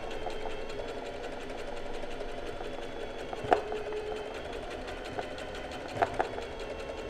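Sewing machine embroidering with a straight stitch, a steady close mechanical whir and rapid needle chatter with a couple of brief clicks and knocks.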